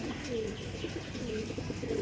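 Several pigeons in a loft keep up a low, continuous cooing murmur with faint chirps mixed in, soft and steady, with nobody talking.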